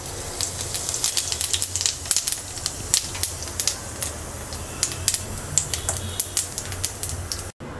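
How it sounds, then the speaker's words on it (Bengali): Half a teaspoon of whole cumin seeds hit hot oil in a wok and sizzle with a steady hiss, sprinkled with dense, sharp crackles and pops throughout, close and fairly loud. "তেলটা গরম হয়ে গেছে, দিয়ে দিচ্ছি হাফ চা চামচ আস্ত জিরা।"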